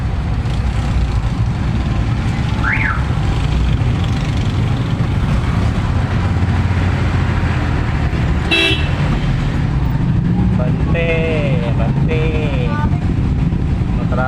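Heavy, congested street traffic in Mapulang Lupa, Valenzuela City, on a school opening day, with a steady roar of engines and a few short, sharp horn toots cutting through nearby.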